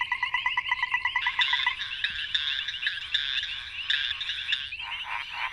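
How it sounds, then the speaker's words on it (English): Frogs calling for mates, a dense chorus of rapid, pulsing croaks and trills that overlap continuously, close and fairly loud, with no talking. "With few exceptions, frogs vocalize to call for mates."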